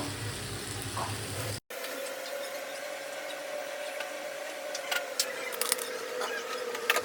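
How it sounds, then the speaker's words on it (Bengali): Water poured into a cooking pan holding pressure-cooked chickpeas seasoned with salt and turmeric, a steady close pour with a faint trickling hiss running several seconds after a brief clatter. "এবার আমি এর মধ্যে একটু জল দিয়ে দেবো।"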